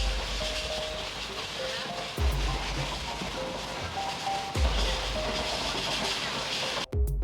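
Second class passenger train running on the Shoranur–Nilambur broad gauge line in Kerala during the monsoon, a steady rumbling roar with faint clatter and a few louder thumps from the wheels, heard from inside the carriage with no talk.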